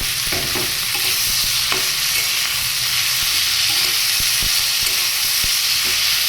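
Yardlong beans and potatoes stir-fry in a pan with a loud, continuous sizzle, broken by light scraping and tapping strokes of a spatula, close up and with no talking.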